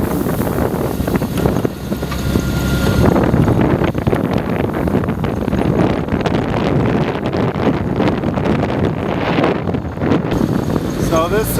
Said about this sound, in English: Let's drive around in the buggy.